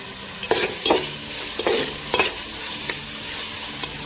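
Ginger garlic paste fries in oil for a village-style chicken curry, with a steady low sizzle broken by several sharp stirring scrapes in the first half, then fading to a lighter hiss.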